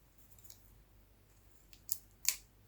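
Scissors cutting duct tape during a Jenga block craft, a few quiet rustles followed by two sharp, crisp snips close by near the end.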